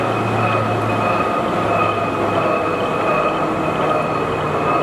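A large Stanko 40 x 192 inch engine lathe runs at 157 RPM, giving a loud continuous mechanical rumble and hum with a steady high tone, unbroken and close for the whole stretch.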